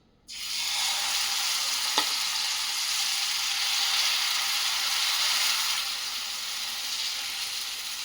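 Semolina and gram flour batter hits a hot, oiled griddle and breaks into a bright, steady sizzle that holds evenly at close range, with no voices over it.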